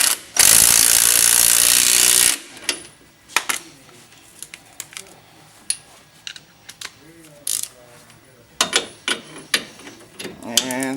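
A torque wrench ratchets through a series of quick clicks and clacks while tightening the rear shock absorber bolts on a 2003 GMC Sierra 2500 HD, close by, after a loud burst of power-tool noise.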